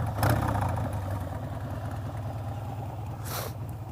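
A Harley-style motorcycle engine fitted with a Hammer Performance 1250 kit and Thunder Torque exhaust inserts idles with a steady, loud low rumble, a brief revving swell near the start and a short hissy burst toward the end.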